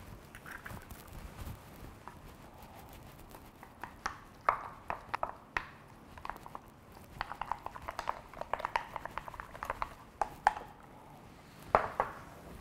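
Fish, pork and egg mixture being stirred by hand in a bowl, with soft scattered clicks and scrapes of utensil against dish, irregular and close, no talking.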